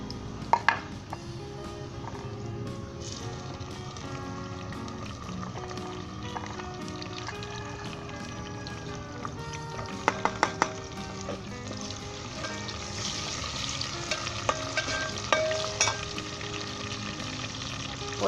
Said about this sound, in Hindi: इसके अंदर हम लहसुन डालेंगे अब।